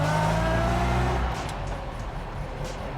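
A 1959 MGA Twin Cam pulling away in first gear, its engine droning loud and close with a steady rumble that eases slightly after the first second, no talk over it.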